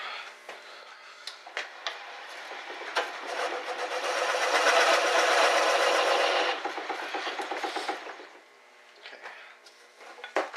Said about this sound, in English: Take a little bit more material off, and I'll turn off some of this tenon here at the bottom